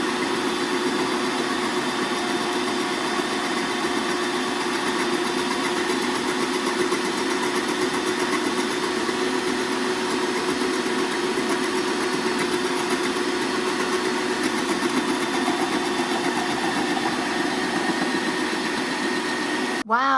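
A Bonnor electric vegetable slicer motor runs steadily while slicing carrots, a loud, constant whirring hum with a buzzing tone that holds unchanged for about twenty seconds before abruptly cutting off.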